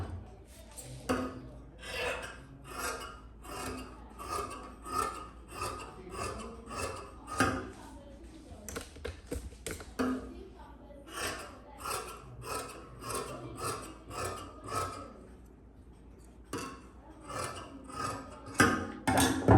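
Hand-cutting material along a marked line, with rhythmic rasping strokes repeating steadily for about twenty seconds, fairly faint and close, pausing briefly now and then.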